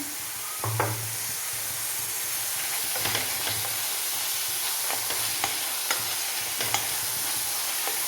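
Chopped tomatoes sauté in a pan for chicken curry, with a constant sizzle and hiss, soft scraping strokes of a stirring spoon and a low hum underneath.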